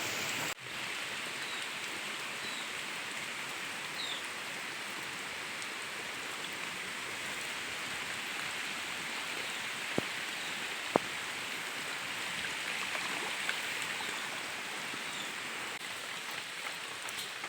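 Steady rain falling outside a village house, a dense even hiss of drops on surfaces with a couple of sharp drips standing out, continuous and moderately distant.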